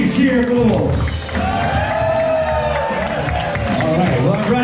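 Guests at a wedding reception cheer and clap for the newlyweds, a dense, steady crowd roar with whoops and a voice or two rising through it, lasting several seconds.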